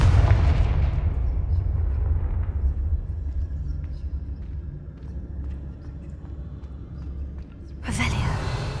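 A booming blast from a Confringo fire spell in Hogwarts Legacy rumbles heavily at first and slowly fades, with a second sharp burst near the end.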